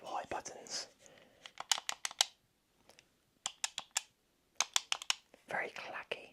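Clacky tapping on the A, B, X and Y buttons of a game controller: quick clusters of crisp plastic clicks close to the mic with brief pauses between bursts, under soft whispered speech.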